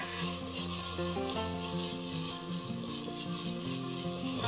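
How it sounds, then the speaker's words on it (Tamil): Green chillies frying in ghee and oil in a cooker with onion and ginger-garlic paste, a steady, close, continuous sizzle running through the whole stretch without talk. "இப்ப பச்சை மிளகா ஆட் பண்றாங்க"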